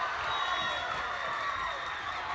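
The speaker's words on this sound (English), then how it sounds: "As the crowd goes crazy" A high school volleyball crowd cheers in the gym after Smiths Station wins the deciding fifth game against Central, a steady, fairly distant roar of voices.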